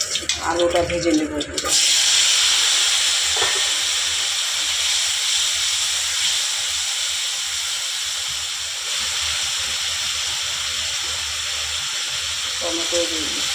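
Potatoes frying in oil in a home kitchen pan while a fish dish is being prepared, a loud, steady sizzling hiss filling most of the stretch, with a voice talking briefly at the start and again near the end.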